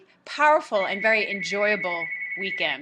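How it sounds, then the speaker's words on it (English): A phone rings in the background with a steady high tone running under a woman's continuous speech. "Pardon my phone ringing in the background."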